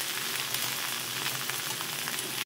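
Mixed vegetables stir-fried together in a little oil for a Bengali vegetarian dish, giving a steady, close hiss and crackle that runs without pause, with no voices, then cuts off abruptly.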